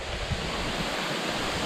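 A waterfall pours with a steady, close broadband rush of water that stays even and unbroken for the whole moment, with no voices over it.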